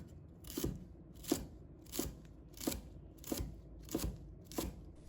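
A knife chops garlic sprouts into small pieces on a board, seven or eight steady, evenly spaced crisp cuts close by with no talking.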